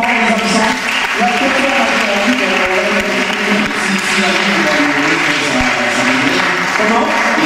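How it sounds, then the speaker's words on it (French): An audience claps loudly and steadily throughout a tribute ceremony where medals are presented, with dense applause that stays at full strength and mixes with a tonal, voice-like backdrop. "On les applaudit bien fort, les absents."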